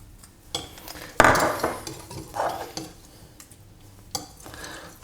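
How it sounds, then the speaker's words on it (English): Eggs broken down with a balloon whisk in a bowl for a crème brûlée, soft irregular clinks and scrapes of metal against the dish, with a few louder knocks, close up. "get myself like a balloon whisk, just break them down a little bit, give them a quick whisk"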